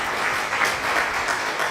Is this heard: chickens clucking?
no